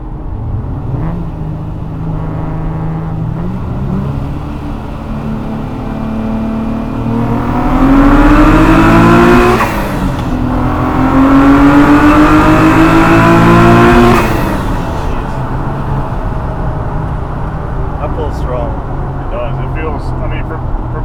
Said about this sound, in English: the intakes on this thing get you a little bit of that spool noise that people like